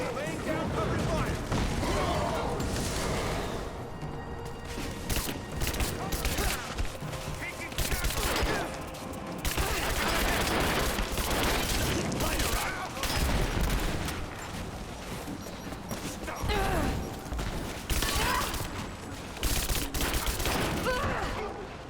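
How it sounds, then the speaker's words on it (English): Video game gunfire from Rise of the Tomb Raider crackles in dense bursts of rapid shots over a noisy battle mix, while a voice talks intermittently throughout. "Laying down cover fire."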